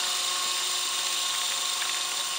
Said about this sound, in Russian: Какая у нас тут штука летает? Вертолет. Управляемый.